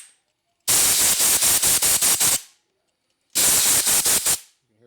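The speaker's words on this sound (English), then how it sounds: "I'm going to go in here and blow out this crap." Two loud bursts of compressed air hiss from a nozzle blowing out a hole in a 1972 Harley-Davidson XL Ironhead Sportster, each with rapid pulsing puffs, separated by a short silence.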